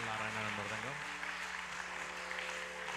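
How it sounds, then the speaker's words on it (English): Audience applause for musicians playing mridangam, tabla and kanjira at a centenary birthday celebration: a soft, steady clapping wash beneath a sustained droning tone, fairly faint throughout. "big round of applause for amazing musicians"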